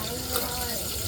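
Cooking oil poured into a pan for frying galunggong, a short, steady liquid pour with a soft trickling wash throughout.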